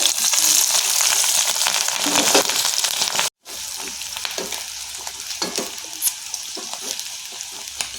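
Green chillies with mustard seeds and fenugreek sizzle steadily in hot gingelly oil, a dense close frying hiss that briefly cuts out, then resumes with scattered crackles and stirring clatter.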